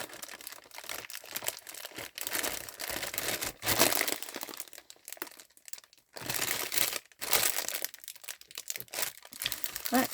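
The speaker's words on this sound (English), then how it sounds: "Sorry, all the crinkling, but gotta get done." Plastic packaging is crinkled and crumpled up close in loud, irregular bursts with short pauses between them, and a person talks now and then.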